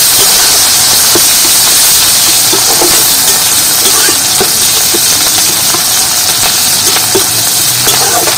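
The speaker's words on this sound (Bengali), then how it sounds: "আর এখানে পেঁয়াজ আর এই কাঁচা লঙ্কাটাকে ভাজা ভাজা করে নেব।" Onion and chopped green chillies fry in hot oil, making a loud, dense, steady hiss with faint crackles throughout and no speech.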